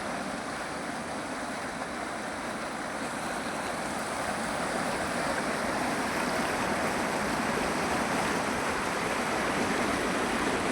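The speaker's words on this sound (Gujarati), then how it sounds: "હવે નદી તમને ચોખ્ખી દેખાડું, જો કઈ રીતે વહી રહી છે" The Kalubhar river flowing past an old fort wall, heard as a constant broad rush of water, steady and fairly loud for the whole stretch with no voices.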